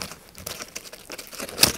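Paper crinkles and rustles in bursts while a gift box is unwrapped, with a sharper crackle near the end; close and fairly soft, no talking.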